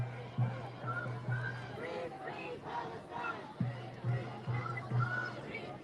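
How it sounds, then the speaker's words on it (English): Agitated crowd at a Westwood, Los Angeles protest and Palestinian support rally, a dense babble of many voices with scattered shouts and a few sharp louder calls rising above the steady noise. "Now the crowd's agitated."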